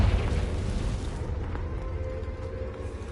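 An explosive blast from the Confringo spell in a fantasy video game bursts out loud at the start, then trails off into a rumbling low decay.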